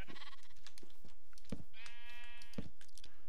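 Sheep in Minecraft's Pixelmon modpack give several short nasal bleats, loud and close, spaced irregularly over a faint game background.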